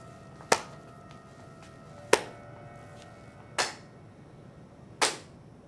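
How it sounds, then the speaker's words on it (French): A man claps his hands four times, slow and evenly spaced, each sharp crack ringing briefly in a quiet room. "Pourquoi il applaudit?"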